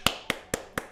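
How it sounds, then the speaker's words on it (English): Four sharp, crisp hand claps in an even rhythm, close and fairly quiet, each a short isolated snap with brief decay between. "I'm going to give you the clap."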